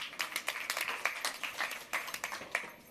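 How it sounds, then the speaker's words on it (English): Applause from a tech conference audience at CogX 2019, a dense patter of many hands clapping at moderate distance, steady and fairly quiet throughout with no talking. "we should put a round of applause for Tabitha and Charlie"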